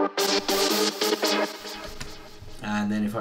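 A lead synth plays solo in a music production project, bright stabbing chords in a rhythmic pattern, loud and close, with a softer smeared passage before a sustained chord closes.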